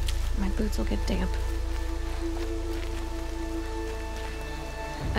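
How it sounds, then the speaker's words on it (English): Steady rain falls in the video game Horizon Zero Dawn, a constant close hiss and patter that runs unbroken under soft tonal game sounds from start to end. "More rain. My boots will get damp."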